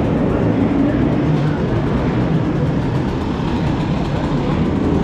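A new 125cc motorcycle engine runs outdoors, a loud, steady, dense rumble that holds evenly without clear revs or pauses.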